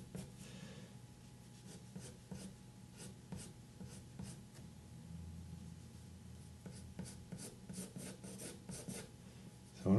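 A pencil scratches lines onto paper in soft, close, repeated strokes with an uneven rhythm, quiet over a faint room hum.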